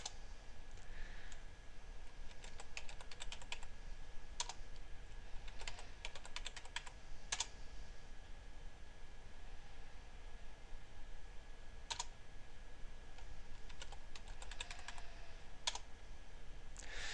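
Keystrokes clatter on a computer keyboard while commands are entered in a terminal for a seedbox setup, coming in scattered clicking bursts and short runs over a steady low hum, with nobody talking.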